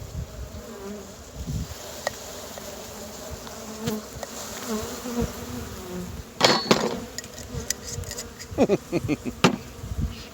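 Constant close buzzing of many honeybees during a spring hive check, with occasional knocks and scraping of hive equipment mixed in.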